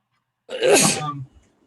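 A single sneeze bursts out close and loud after a moment of silence, then fades into a brief breathy tail.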